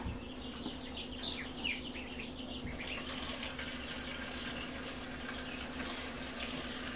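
Water runs steadily from a tap while duck eggs are washed, a continuous splashing hiss with faint bird and duck calls in the background and no talking.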